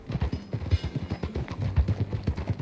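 Horse hooves clip-clop in a quick, even riding rhythm close up while riding in Red Dead Redemption 2, with no talk over them.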